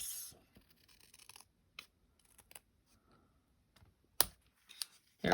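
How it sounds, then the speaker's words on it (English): Stampin' Up! Snips scissors cut through card paper, giving a few short, crisp snips and rasping rubs, with a sharp close cut near the end and quiet stretches between. "I need my really good scissors, which are here."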